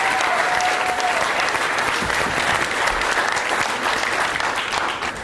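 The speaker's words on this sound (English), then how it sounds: "So a round of applause of all those points for Rachel from the crowd." A crowd applauds a contestant named Rachel at a live game-show style event, a continuous loud wash of clapping from many people lasting the whole stretch.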